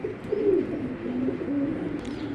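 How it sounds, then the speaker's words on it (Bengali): Pigeons cooing, tournament-type domestic birds just released, low soft repeated coos at close range, a few rolling calls in sequence with no talk. "দেখেন কবুতর দুটা যে ছাড়ছে কবুতর দুটা কতটা সুন্দর দেখছেন"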